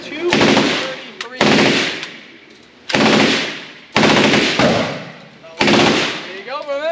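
A rifle firing at a shooting range in Las Vegas: five loud, close, sharp shots spaced about a second apart, each trailing into a long echoing decay, with brief voices between.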